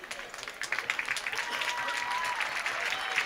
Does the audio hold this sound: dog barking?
no